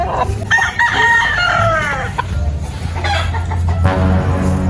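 A rooster crows loudly and close by, a long rising-and-falling call, with clucking fowl and farmyard noise around it.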